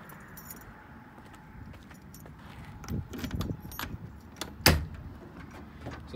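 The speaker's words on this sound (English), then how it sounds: "Go around and open up the trunk." Keys jangle softly and a latch clicks as the trunk of a 1972 Datsun 510 is opened, with faint handling rustles and a sharp thump near the end.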